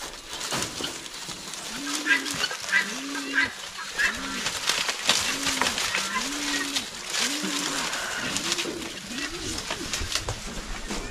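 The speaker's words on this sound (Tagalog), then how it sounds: "yung kalapati natin dito, oh." Pigeons give about eight repeated soft coos at a steady rhythm, fairly close, over clattering and rustling noises, with people speaking nearby.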